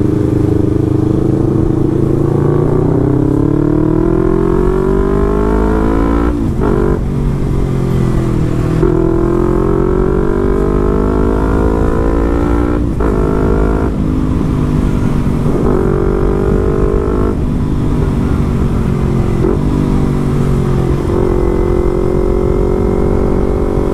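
A Yamaha MT25 sport motorcycle engine revs hard and continuously while riding, its pitch climbing and dropping through repeated gear changes, loud and close, with no talking.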